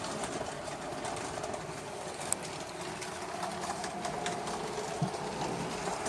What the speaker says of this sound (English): let's follow the train around for a few minutes